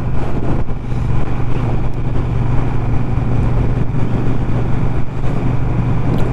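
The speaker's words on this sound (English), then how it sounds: "Really nice note from the exhaust coming through" A steady, throaty exhaust from a 2019 Triumph Bobber Black motorcycle drones low and constant, with a bit of wind rush over the microphone and no voices.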